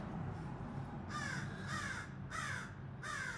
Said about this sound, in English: a hungry crow wants to eat Pumpkin.